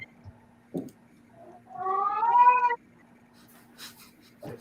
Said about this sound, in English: Is that your cat, Blaze?